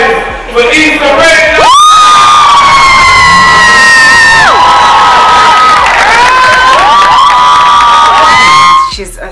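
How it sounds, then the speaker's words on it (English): Loud crowd at a BET Experience 2017 event cheering, whooping and screaming steadily for nearly nine seconds, with high-pitched shrieks riding over the roar before it fades at the end. "Let's make some noise for Issa Rae"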